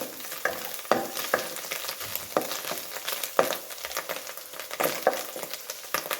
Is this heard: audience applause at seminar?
no